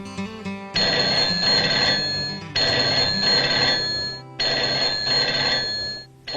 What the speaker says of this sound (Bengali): আর ফোন আসার সময় পেল না। দূর, এই টেলিফোনটা